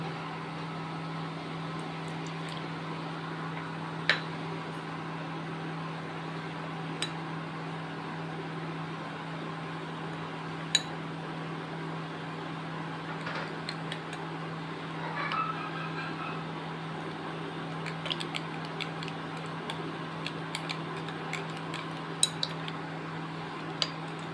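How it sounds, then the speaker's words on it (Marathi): A spoon mixes custard powder into cold milk in a bowl, making faint sparse clinks against the bowl and a few soft swirling sounds over a steady low background hum, with no speech. "कस्टर्ड पावडर चांगली अशी मिक्स करून घ्यायची दूध टाकून"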